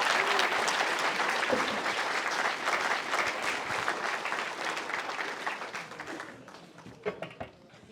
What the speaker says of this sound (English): Can we give him a round of applause as well, please?